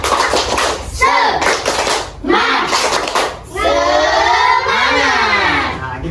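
Schoolchildren in a classroom repeat a rhythmic clapping chant, with loud group clapping in quick bursts mixed with chanted and shouted words from the whole class, close and energetic.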